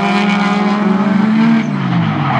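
A burnt orange Nissan 180SX drift car in a Top 16 drift battle holds a loud, sustained engine drone close by, with tire screech woven through it and a slight shift in pitch near the end.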